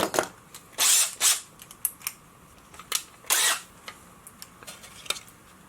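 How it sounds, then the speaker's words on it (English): A power drill with a 1/4 inch bit bores into a plastic frog bubble blower toy in short bursts, the motor whirring on and off with clicks and handling noises between. "and finish drilling that"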